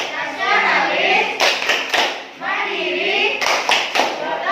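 Children in an Indonesian fourth-grade classroom perform the PPK clapping chant, rhythmic bursts of hand claps in short groups between spoken chanted lines, loud and close.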